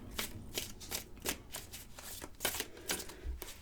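Grand Lenormand oracle cards are shuffled by hand close up, a quick train of soft riffling snaps and slaps repeating about a dozen times, quiet and with no voices.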